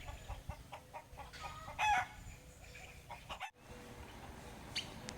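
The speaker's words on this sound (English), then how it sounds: "The resident chickens certainly did not make me feel welcome." Resident chickens near a campsite in Mexico cluck faintly, with a brief crowing call and scattered other bird sounds against quiet background noise.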